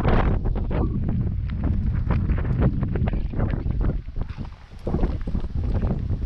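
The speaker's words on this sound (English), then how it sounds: "It's so windy." Outdoor wind buffeting a microphone during a street walk in Kenya, a loud steady rumble and roar that fills the whole clip with gusty surges and no clear speech.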